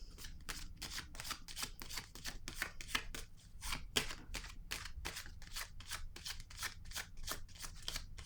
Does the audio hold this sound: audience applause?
no